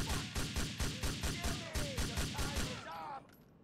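Gunfire in GTA IV comes as a rapid, rhythmic burst of loud shots that stops abruptly near the end, with shouting voices and short whistling tones over the shooting.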